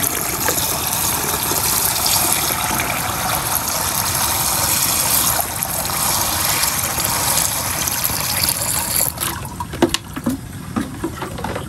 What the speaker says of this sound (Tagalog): bubuhusan lang po natin siya ng tubig para unti-unti po siyang matunaw